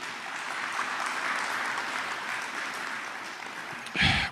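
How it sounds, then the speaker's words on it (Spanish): A church congregation applauds steadily for several seconds, a dense even clatter of many hands, followed by a brief louder burst near the end. "Denle un aplauso ahí al Señor."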